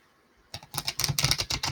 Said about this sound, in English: So I feel one more shuffle, one more good shuffle.